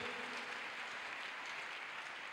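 A church congregation applauds in praise during a worship service, a steady, dense wash of clapping that holds at an even level throughout.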